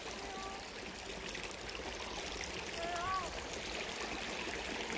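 A flowing stream in an outdoor river setting, a steady broadband rush of water running without a break through the whole stretch, fairly close, with faint voices in the background.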